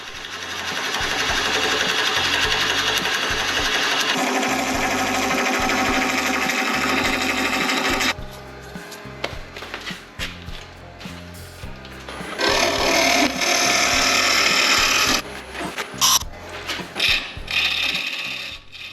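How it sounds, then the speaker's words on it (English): A Forstner bit drills a hole in a wooden box turned on a lathe, making loud, dense grinding and whirring in long stretches, broken by a quieter pause with intermittent clicks and mechanical rattling. "get the side to be nice and flat for the Forstner bit to grab into, and then drill the hole"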